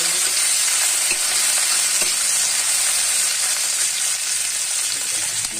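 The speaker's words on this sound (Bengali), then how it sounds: "এর মধ্যে আমি একটু কুচানো পেঁয়াজ দিয়ে দেব।" Chopped onion and dried red chilies fry in hot mustard oil, giving a steady, close, unbroken sizzle and hiss that runs the whole time with no talking.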